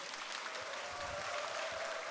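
Steady applause from a hall audience welcoming a literature professor onstage at a broadcasting station event, an even dense wash of clapping without voices.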